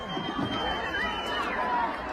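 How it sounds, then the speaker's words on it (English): A large outdoor rally crowd at a Trump campaign event breaks into steady cheering and shouting, a dense wash of many voices heard at a distance with scattered nearby calls. "but begin to cheer as Trump is lifted up"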